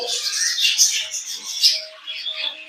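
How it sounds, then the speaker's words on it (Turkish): Newly hatched budgerigar chick peeping in a nest box, a rapid run of thin, high chirps close to the listener, continuous and slightly wavering with a faint steady tone underneath. "yeni çıkmış bir muhabbet kuşumuz aslına bakarsanız"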